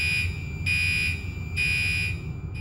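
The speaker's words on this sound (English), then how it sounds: "you will be able to tell by the pulsing tone from the horn inside the room" Pulsing alarm horn from an Oxeo extinguishing system panel, sounding inside a room in a steady high tone that swells louder at regular intervals over a constant low hum.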